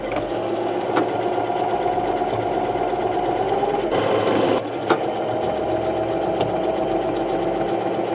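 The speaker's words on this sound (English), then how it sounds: "we are going to sew the shoulder lines together." A sewing machine stitches the shoulder seams of a hoodie made from a tapestry blanket, running in a fast steady whir with a brief louder burst midway, close and alone.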